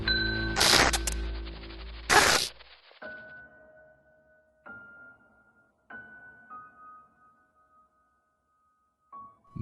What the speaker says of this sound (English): Ring of the bell.